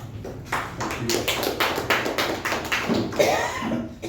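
Steady clapping from a small group at a club meeting, a run of close, even handclaps lasting several seconds and tapering near the end.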